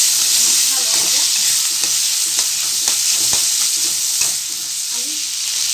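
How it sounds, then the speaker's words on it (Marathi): Fried potatoes tossed with two spoons of Schezwan chutney crackle loudly in a hot pan, a dense sizzle punctuated by repeated spatula clicks and scrapes, close up with no voices. "हलवायचं"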